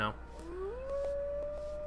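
A pet dog in the World of Warcraft video game lets out a single drawn-out howl that rises and then holds a steady pitch, sounding clear and fairly close over a quiet game background.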